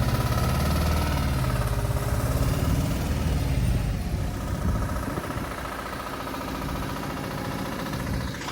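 A large 15-metre diesel cherry picker runs steadily, its engine a constant close, loud rumbling drone that holds level throughout with no voices.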